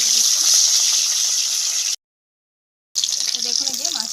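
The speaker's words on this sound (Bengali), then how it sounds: "এবার আমি একে একে মাছগুলো ছেড়ে দিচ্ছি।" Katla fish pieces dropped into hot oil, giving a loud, steady hiss and crackle that stops completely for about a second, then starts again with a faint voice audible underneath.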